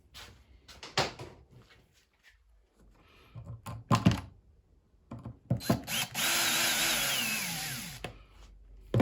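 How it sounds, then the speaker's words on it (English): A power drill drives screws into a 3D printed bead lock wheel for a TRX4 RC truck, with scattered handling clunks first, then a steady whirring run of a couple of seconds, fairly quiet and close. "Actually, I'm going to use my drill."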